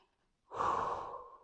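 One deep, slow breath drawn in and released during guided meditation, close and soft, rising from silence and fading gradually.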